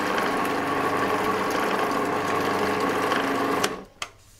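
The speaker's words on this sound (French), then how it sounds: "Et je vais fermer le robot. Je mets en route" A Magimix Patissier food processor whirs steadily as it makes mayonnaise, a loud, even motor hum with a rattling whine that runs for several seconds and then cuts off abruptly, leaving a couple of faint knocks.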